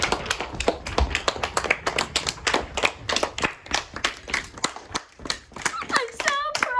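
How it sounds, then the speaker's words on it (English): Small group of elementary school students clapping in a classroom, uneven individual claps close by, some voices and a squeal near the end. "So give yourselves a round of applause."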